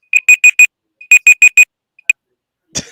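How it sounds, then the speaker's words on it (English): A timer alarm beeps in two rapid bursts of four loud, evenly spaced electronic tones, followed by a single lone beep and then a brief noisy rustle, with no talking. "That was my timer."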